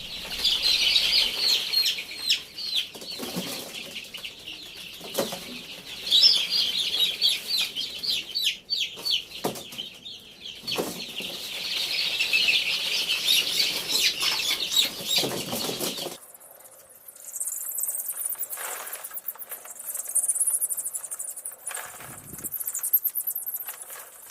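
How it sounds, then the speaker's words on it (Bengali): Chickens cluck and flap their wings close by as they are put one by one into a large wooden box on a rooftop farm, bursts of scuffling and fluttering with occasional clucks, no talk. "তারপর একে একে মুরগিগুলোকে খাটের বক্সের মধ্যে ঢুকিয়ে নিই"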